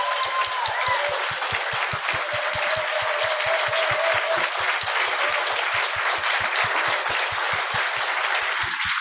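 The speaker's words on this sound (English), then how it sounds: "Give him a round of applause." Sustained applause from a gathered audience at a campfire event, full and even throughout, with a steady rhythmic pulse of synchronized clapping running beneath the wash of hands for about nine seconds.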